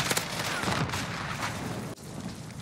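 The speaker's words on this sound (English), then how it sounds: "My own teammate shot at me, and I thought it was an enemy player and made me turn around." A teammate fires at close range in Call of Duty: Ghosts, with loud dense bursts of gunfire clattering and booming, then a brief cutoff before the firing carries on.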